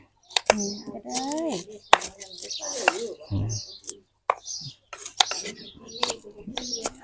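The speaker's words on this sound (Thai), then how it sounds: "ตะไคร้หั่นเป็นแว่นแว่น" Sharp knife chops strike a board several times in quick succession, slicing lemongrass into rings, mixed with nearby speech and light clatter.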